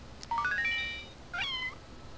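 Two rising, warbling cat meows from the Boktai 2 video game, the first longer and the second shorter, fairly clear over a quiet background.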